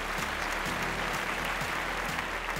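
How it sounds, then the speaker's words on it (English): Audience at a Femina Miss India beauty pageant applauding, a thick continuous roar of clapping, loud and even from start to finish, over a low rhythmic music bed. "let's once again have a huge round of applause for Parvati and our five finalists"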